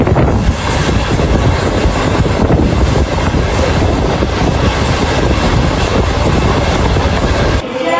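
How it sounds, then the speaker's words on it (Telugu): A MEMU train rolls into Srikakulam Road railway station with a loud, dense, unbroken roar of wheels and wind buffeting the microphone, cutting off abruptly at the very end. "మన ట్రైన్ శ్రీకాకుళం రోడ్ రైల్వే స్టేషన్కి అయితే వచ్చేసింది"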